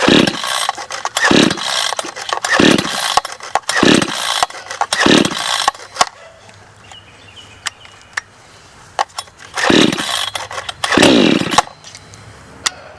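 A cheap Chinese chainsaw on full choke is pull-started about seven times, each loud, rasping cord pull bringing a brief sputter. The pulls come in two quick runs separated by a quieter pause.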